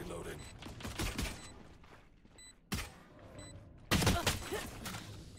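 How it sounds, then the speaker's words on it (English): Gunfire in the tactical shooter Valorant, with bursts of shots fired through a wall in loud clusters separated by quieter gaps, under game sounds and faint talk. "Dude, they're really shooting through the wall"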